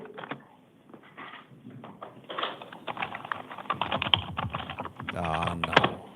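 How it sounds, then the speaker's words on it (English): Someone types rapidly on a computer keyboard in a courtroom during an initial appearance hearing, a dense close clatter of keystrokes under scattered talk and room noise. "We got a typer here."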